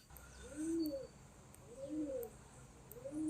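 Pigeons coo in soft, rounded, repeated phrases at a regular pace, fairly close, over a quiet background hum with no talking.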